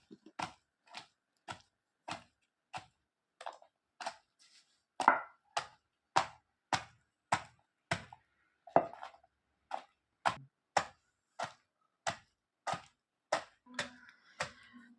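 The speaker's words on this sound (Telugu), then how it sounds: "ఈ విధంగా మనం వాటిని దంచాలి." Tamarind being pounded coarsely in a mortar, a steady run of sharp, close thuds roughly every half second with brief pauses, with faint background sounds between strokes and no speech.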